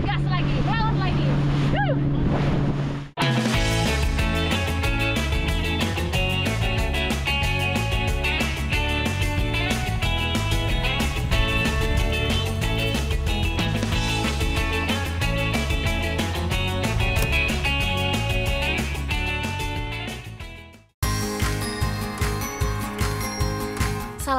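A fishing boat's motor drones loud and steady at sea off eastern Indonesia, with a continuous engine hum and wind buffeting, briefly cutting out near the start and again near the end before resuming.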